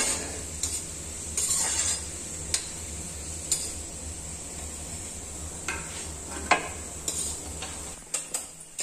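Edible gum (gond) frying in a pan for jaggery and dry fruit laddoos, with a steady sizzle and occasional close ticks and scrapes of a spoon against the pan.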